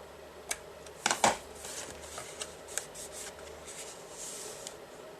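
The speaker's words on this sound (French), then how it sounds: "Alors ici j'ai un dévidoir qui me permet de faire simplement des tout petits traits très discrets." A small adhesive tape dispenser lays short strips onto wedding-invitation stationery, producing a few quick, close crackling and rubbing ticks, clustered early and then sparse, in an otherwise quiet room.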